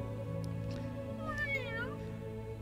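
A cat meows once in the video game Little Witch Nobeta: a rising and falling meow over steady background game music.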